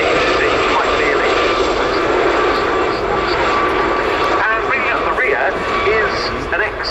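A Fleet Air Arm Gazelle helicopter of 705 Naval Air Squadron at an airshow produces a constant engine drone with a faint rotor beat, heard under a commentator's voice and crowd noise.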